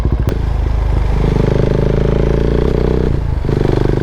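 A motorcycle being ridden gives off a close, steady engine note with a sharp click near the start and a brief dip before the throttle picks up again.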